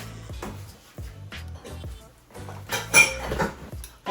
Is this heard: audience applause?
no